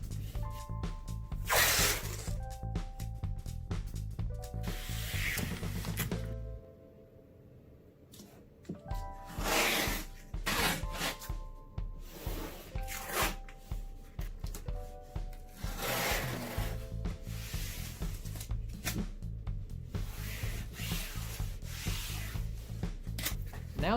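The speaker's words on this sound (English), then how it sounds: "take painter's tape and make a thick border around those marks" Painter's tape is pulled and pressed onto a wall to make a border, giving quiet repeated rubbing and tearing bursts over soft background music, with a short lull partway through.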